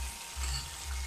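Garlic frying gently in a pan over low heat, a soft, even sizzle heard up close for a brief moment with no talking.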